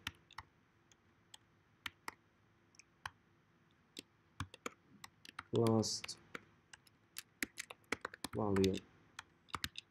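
Scattered clicks from typing on a computer keyboard sound sharp and close, irregular in rhythm across the clip, with a speaking voice breaking in twice over a quiet room hum.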